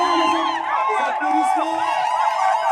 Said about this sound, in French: Les cris de joie, les